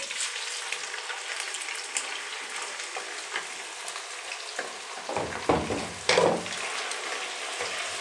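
Chicken fries in hot ghee over a full flame with a steady, dense sizzle, joined toward the end by a few louder stirring bursts and spatters, close by and without talk.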